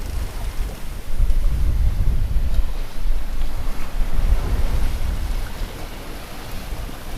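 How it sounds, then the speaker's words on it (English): Ocean waves wash and surge around a sailboat far offshore in a steady broadband rush, swelling louder through the middle with wind buffeting the microphone, and no voices. "there's a couple of bigger waves coming on now"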